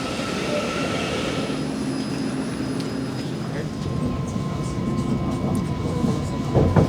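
Rumbling train noise with a faint metallic squeal of wheels as the carriage slows pulling into a station, heard from inside, with a low murmur of voices.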